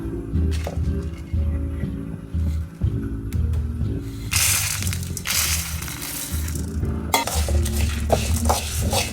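Coriander seeds dry roasting in a pan without oil for a fish curry masala, stirred steadily with a spoon that scrapes and rattles against the pan, with louder bursts of stirring partway through.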